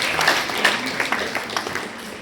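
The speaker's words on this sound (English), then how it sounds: "One round of big applause to all the teachers at" An audience at a school awards ceremony in Chennai applauds teachers with a dense, continuous clatter of clapping that holds steady throughout.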